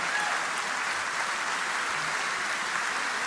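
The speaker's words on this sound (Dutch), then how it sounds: "Mag ik een applaus voor sopraan Francis van Broekhuizen, bariton Willem de Vries en op de bok Dave van Raven." Audience applauding opera singers, a soprano and a baritone, with a conductor, an even, continuous wash of many hands clapping, moderately loud and unbroken.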